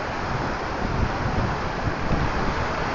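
A typhoon's strong wind roars in a continuous, loud buffeting rush across the microphone amid flooding, with no talk.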